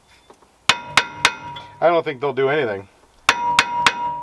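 Hammer striking metal on a Toyota Supra's four-piston Mercedes Brembo brake hardware, several sharp ringing knocks in two short bursts, close by, with someone talking in between.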